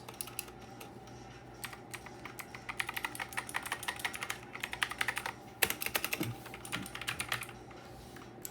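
Clicky switches on a Black Shark gaming keyboard clatter in quick, uneven bursts of sharp keystrokes, close and fairly quiet, speeding up toward the middle with a louder thump partway through.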